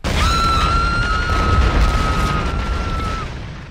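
A film bomb explosion from The Fifth Element lands as a loud deep boom and rumble, with a high sustained ringing tone riding over it that cuts off before the blast fades.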